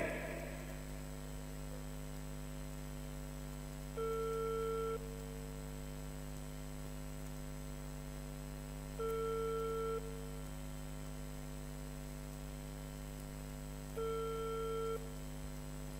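A phone ringback tone repeats three times, each ring about a second long, separated by long gaps, over a steady low electrical hum with no answer, during a live lucky draw at Saidpur fair.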